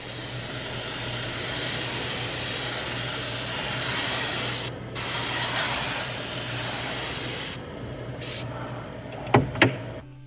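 A spray of VMS No Peel water-based primer hisses steadily onto brass, one long continuous burst close by, followed by a few short spurts and a couple of light knocks.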